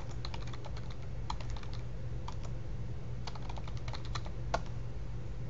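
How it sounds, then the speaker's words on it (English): Fingers type on a computer keyboard in quick bursts of light clicking keystrokes with short pauses between, close and fairly quiet, with no talking. "I'm going to type the trailer that I want to add."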